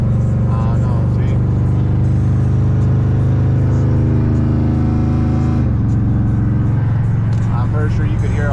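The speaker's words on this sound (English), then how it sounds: "I'm pretty sure you could hear all that, like the raspiness and the exhaust." A Chrysler 300 SRT8 with a Borla Atak exhaust drones loudly and steadily while driving, its raspy note shifting pitch midway as the throttle changes, with someone talking over the engine throughout.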